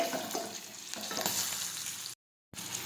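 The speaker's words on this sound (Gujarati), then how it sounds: "એકદમ સરસ આપણા મરચાં તળાઈ ગયા છે." Green chillies frying in oil in a pan for a Gujarati chilli curry, a steady close sizzle with light stirring that cuts off abruptly into a brief silence, then resumes.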